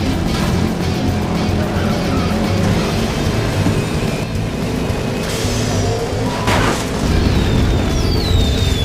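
Race car engines from the Cars Race-O-Rama video game on Wii, a loud continuous roar with tire squeals and a brief boom-like burst, mixed with game music and effects, no talk.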